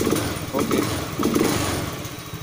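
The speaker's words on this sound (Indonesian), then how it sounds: "Benar saja motor ini pada tarikan awalnya dia langsung bangun ya." A Honda Beat scooter engine with a hesitation fault on initial acceleration revs up close by in a workshop, a loud buzzing drone that surges and falls in quick bursts.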